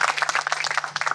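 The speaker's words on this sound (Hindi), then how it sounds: "ताली बजा दीजिए इनके लिए भाई" A live audience claps for a poetry reciter at a televised youth panel event, a dense burst of many hands applauding steadily and fairly close, with a low steady hum underneath.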